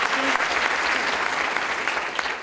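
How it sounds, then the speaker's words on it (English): Steady clapping from the crowd at a West Side Stories storytelling show, a full, continuous wash of applause with faint voices beneath. "And by applause, how many people have never been to a West Side Stories before?"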